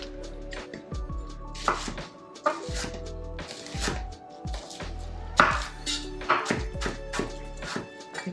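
Knife chopping raw Brussels sprouts on a cutting board while making an Italian salad, a steady run of close, crisp cuts with short pauses, over a faint low kitchen hum and no talking.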